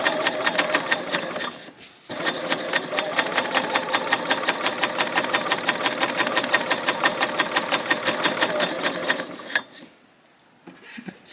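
A Bernina L890 sewing machine chain-stitches along a quilt edge, a rapid even run of needle strokes close and loud for about eight seconds, starting after a short burst and pause and ending in near silence.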